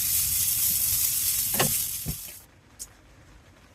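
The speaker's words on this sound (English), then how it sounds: "I got some butter and some onions, and fry up those wild mushrooms" Wild mushrooms frying in butter with onions give a steady, close, broadband sizzle for about two and a half seconds, then it cuts off, leaving a few faint clicks in near quiet.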